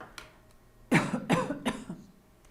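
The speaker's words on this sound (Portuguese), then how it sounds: "mas que tosse é essa" A teacher lets out a burst of three or four harsh, close coughs in quick succession, ending in a throat-clearing rasp, with no talk over it.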